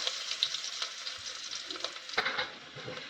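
Mustard seeds, turmeric powder, asafoetida, curry leaves and green chillies sizzle in hot oil for a tempering, a close, steady crackling fry with a few small pops and stirring scrapes.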